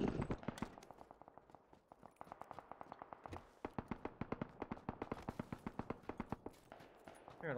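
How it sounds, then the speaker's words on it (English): Rapid bursts of video game gunfire in PUBG crack in quick, uneven volleys, with single shots and fast strings of rounds, fairly close and sharp. "Hearing a lot of gunfire."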